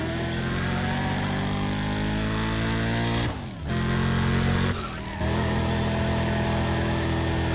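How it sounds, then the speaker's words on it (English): Turbocharged car engine in the racing game Need for Speed ProStreet heard from the bonnet camera, a loud sustained drone with rising and falling revs and two brief dips like gear shifts, no talking. "the sound of the engines, at least when you're on the bonnet cam,"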